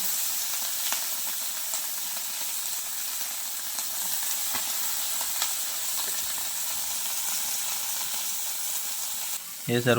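River fish fry in a pan with a steady, close sizzle and hiss that lasts throughout, broken by a few faint clicks and a brief voice near the end.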